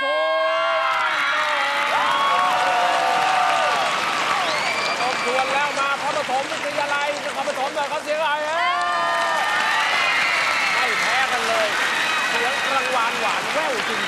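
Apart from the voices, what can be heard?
school cheering squad cheering and applauding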